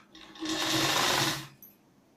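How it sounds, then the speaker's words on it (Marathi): A sewing machine runs a double line of stitching across a katori blouse lining, whirring steadily and close for about a second before stopping with a brief light click. "याच्यावर डबल शिलाई मारून घ्यायची"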